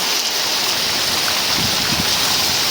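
Steady broadband rushing of rain and running water, constant and fairly loud, with a few faint low knocks in the middle.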